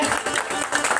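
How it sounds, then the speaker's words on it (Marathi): Brief burst of audience applause at a Marathi bharud folk performance, loud and close, with a voice mixed in. "त्यासाठी टाळ्या वाजवा"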